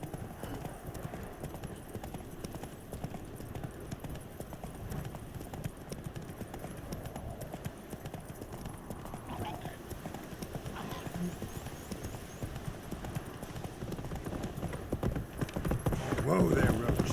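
Horse hooves clip-clop steadily as Geralt rides Roach in The Witcher 3, a continuous plodding rhythm under background game sound and commentary, with a neigh-like burst near the end.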